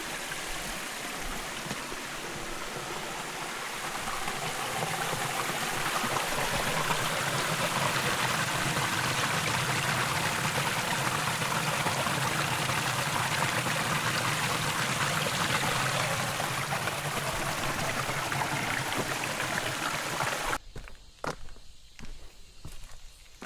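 A mountain valley stream on Suraksan in Seoul rushes steadily and loudly, a continuous wash of flowing water that cuts off abruptly near the end.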